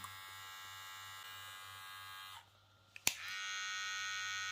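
A VGR electric hair clipper motor runs at a steady, constant speed with an even close-up buzzing hum, cutting out briefly near the middle with a sharp click before resuming just as steadily.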